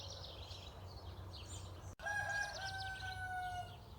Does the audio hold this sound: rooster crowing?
yes